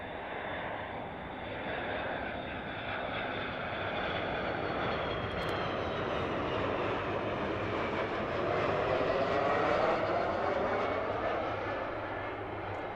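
V-22 Osprey tiltrotor aircraft fly overhead with a distant, droning engine and rotor roar that swells gradually, peaks and then eases slightly.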